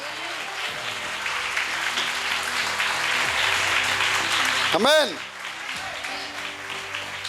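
A church congregation at a Kannada Sunday service applauds steadily at moderate volume while a voice carries over the clapping, and a single word is spoken near the end.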